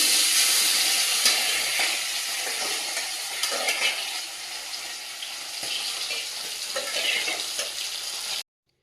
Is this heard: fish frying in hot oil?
yes